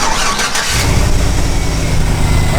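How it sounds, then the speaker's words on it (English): A muscle car being built for a tire-shredding project, jump-started with jumper cables, cranks briefly and then catches, settling into a loud, rough, close idle that continues to the end. "started up the car"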